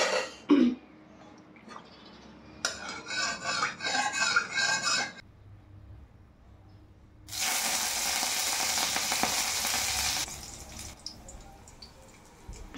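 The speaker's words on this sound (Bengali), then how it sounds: "তো গরম তেলে সবচেয়ে আগে আমি লঙ্কাগুলোকে দিয়ে ফ্রাই করে নিই" Chillies frying in hot oil in a wok give a loud, steady sizzle lasting a few seconds, preceded by clattering kitchen handling and scraping bursts, with quieter gaps in between.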